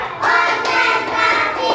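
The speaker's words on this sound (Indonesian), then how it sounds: "Tepuk 1, tepuk 2, tepuk 3, tepuk 4" Schoolchildren in a classroom clap together in a counted rhythm, a short run of close, evenly spaced hand claps that carry over a faint murmur of young voices.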